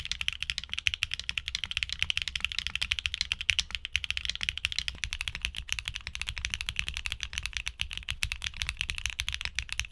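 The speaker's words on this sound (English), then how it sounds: "offering a distinctive smooth feel and crisp sound for enthusiasts seeking a unique typing experience" Rapid, steady clacking of HMX mechanical keyboard switches, dense keystrokes running continuously with a bright, crisp bottom-out sound and no voices.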